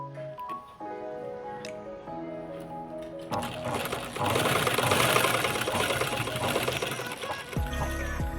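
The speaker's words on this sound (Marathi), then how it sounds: "अशा प्रकारे पूर्ण चेनला आपल्याला स्टिच टाकून घ्यायची आहे" A sewing machine stitches a new zipper onto a dress, running in a steady close whir that speeds up into a louder, busier hum midway before slowing and stopping near the end.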